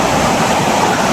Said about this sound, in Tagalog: Sobrang lakas talaga ng mga idol, agos ng tubig